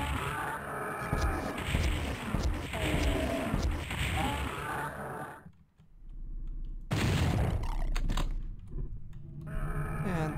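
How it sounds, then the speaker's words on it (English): Rocket explosions and gunfire from the shooter game Doom 64, in the Tech Center level, in dense, loud repeated bursts, then a brief lull before more loud blasts. "I will probably be using rockets again"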